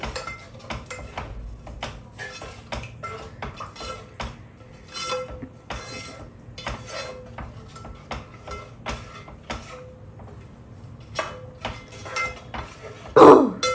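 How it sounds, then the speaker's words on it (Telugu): Rice flour dough is stirred in a pot on the stove, with repeated clinks and scrapes of a utensil against the metal in an uneven rhythm, close by, ending in a louder knock. "కలుపుతూ ఉండాలండి మొత్తం, అంటే ఉండలు కట్టకుండా మనం ఉక్కించిన పిండి కలుపుకుంటూ ఉండాలి"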